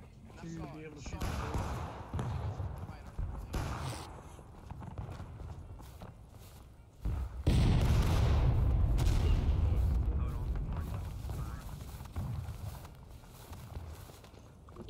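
Cannon fire in the video game War of Rights: a sudden heavy boom followed by a rumbling roar, with voices talking throughout and scattered thuds before it.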